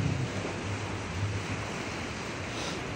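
Broad steady wash of sea waves at high tide along the Cabongaoan shore, a continuous surf roar with some wind buffeting, no distinct breaking crashes, filling the whole moment without voices.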